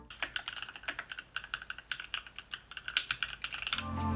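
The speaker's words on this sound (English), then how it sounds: "And finally, I installed the keycaps. And now for a type test." Rapid keystrokes on a mechanical keyboard fitted with newly installed keycaps, a steady run of close, crisp clacks with a slight thock at the end, alone without talk.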